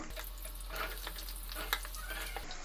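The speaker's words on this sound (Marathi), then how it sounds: "कढईमध्ये कांदा घालून घ्यायचा आहे" Onion going into hot oil in a kadai for kadai paneer gravy, a soft, steady sizzle with light stirring scrapes, fairly faint and without talk.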